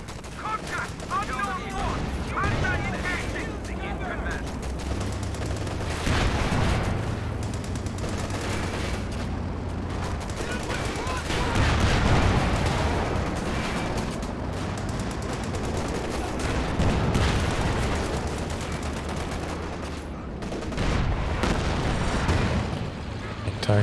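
Gunfire and artillery from a Company of Heroes 2 2v2 multiplayer battle: dense, continuous rattling shots and booming blasts layered loudly throughout, with a voice talking over the fighting.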